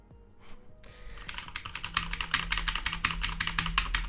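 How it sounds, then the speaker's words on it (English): Computer keyboard keys hit hard, a rapid, steady run of loud, close clacking keystrokes that starts after a brief pause and continues without talking. "I'm hitting my keys as hard as I can so you can hear it"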